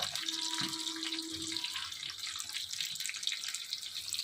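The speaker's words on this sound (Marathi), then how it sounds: "तेल गरम झाले, आता त्यात आपण हा लांब कापलेला कांदा घालूया" Sliced onion fries in hot oil for a Kolhapuri misal, giving a loud, steady sizzle that runs unbroken from start to finish, with a brief ringing tone near the start and no talk.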